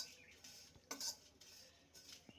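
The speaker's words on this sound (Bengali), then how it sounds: "ড্রাই রোস্ট করে নেব।" Cumin and dried red chili dry-roasted in a wok with no oil, quiet scraping and clinking of a spatula against the metal pan in short irregular strokes.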